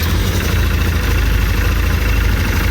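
A cheap side-by-side UTV, freshly rebuilt with a new one-way bearing and new primary and secondary clutches, idles with a steady, loud, low engine rumble and constant vibration and no pauses.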